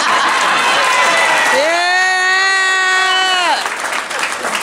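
Wedding guests clapping during a best man's speech, with a long, loud cheer rising over the applause in the middle before the clapping continues and eases off.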